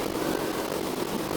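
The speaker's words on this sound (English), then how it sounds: "Idling the throttle so we can start decelerating" Boeing B-17 propeller engines in the X-Plane 11 flight simulator hold a steady, loud droning roar while throttled back to idle.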